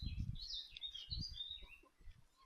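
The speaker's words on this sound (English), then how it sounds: "It's a blackcap, which are part of the warbler family." Blackcap warbler song on a countryside walk: a bright run of rapid, fluting phrases with twittering notes, moderately close, over low wind rumble and rustling.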